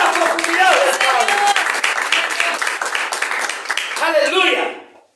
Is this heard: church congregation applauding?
yes